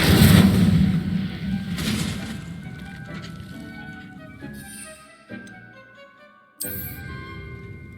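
Incendio fire spell cast in the video game Hogwarts Legacy, a loud whooshing burst at the start that fades into crackling and scattered impact sounds, with sharper hits later on.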